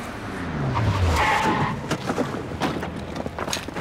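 A car pulling away with a tire squeal and a revving engine, loud at first, then thinning into rougher rumbling and knocks as it moves off.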